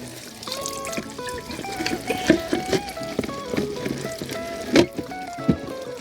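Water from a pond pump fountain splashes and trickles onto surrounding rocks, a steady close-up patter with irregular louder splashes, heard alone with no talking.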